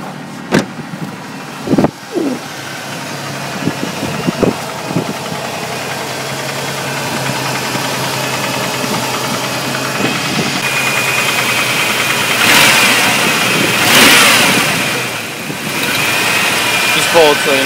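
A Ford Ranger pickup with stock exhaust idles steadily while warming up on a cold start, a low, even engine hum running throughout with voices talking over it and a few brief knocks and clicks.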